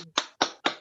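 Three sharp, evenly spaced claps ring out close by, each with a short decay, heard alone without talk, as an audience welcomes a presenter.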